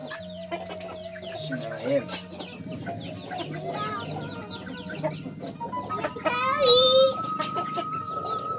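Pelung chicken clucks repeatedly, its feet held soaking in warm water, with bursts of louder squawking near the end; a low hum and soft background noise run underneath.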